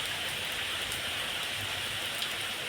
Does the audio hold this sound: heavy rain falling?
yes